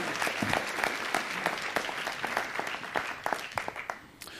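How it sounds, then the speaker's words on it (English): A crowd applauds at a city council meeting with dense, steady clapping that thins out toward the end, fairly distant. "Give him a nice round of applause."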